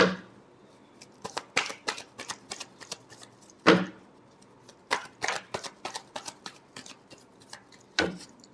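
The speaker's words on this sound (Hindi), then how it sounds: "Last shuffle." Tarot cards shuffled close up in a quiet room, a steady run of crisp riffling flicks and soft slaps in uneven bursts, with brief pauses between shuffles and no talking.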